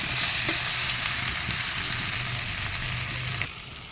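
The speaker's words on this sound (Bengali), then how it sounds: "এবার ভালো করে কষাতে হবে।" Fish curry spices with ginger and chilli paste, turmeric and salt sizzle steadily while being stirred and sautéed in a pan, a continuous close frying hiss with faint scraping, easing slightly near the end.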